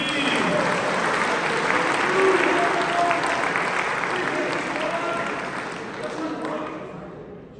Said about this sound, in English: Give them another hand clap, please.